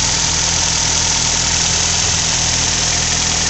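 A 2010 Nissan Rogue engine with about 74,000 miles held at 2500 rpm, a steady, loud mechanical hum and drone with no talk.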